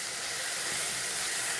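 Steady sizzling hiss of spice powders sautéing in hot oil in a pan for egg roast, continuous and close, with no talking.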